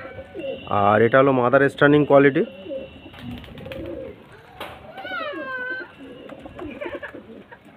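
A pair of pet pigeons coo in a few strong, throaty bursts early on, followed by softer calls while someone talks nearby.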